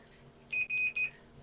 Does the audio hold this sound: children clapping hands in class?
no